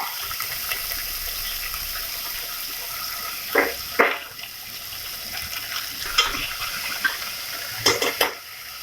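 Sliced large onions frying in a pan as they are stirred, with a steady sizzle and a few scraping strokes from the spoon, close by and without any talking.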